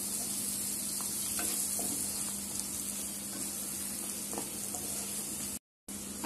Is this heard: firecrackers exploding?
no